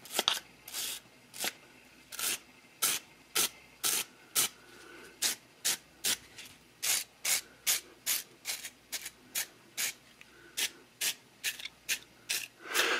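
Stainless steel wire brush scrubbing grunge off a Singer 201K sewing machine bobbin winder, rhythmic short scratchy strokes repeating steadily about twice a second, close and moderately quiet with no talk.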